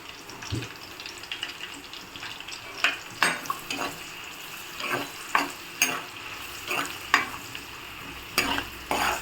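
Onions and green chillies frying in oil for an ivy gourd fry, a soft sizzle broken by regular scraping strokes of a spatula stirring the pan, close and clear.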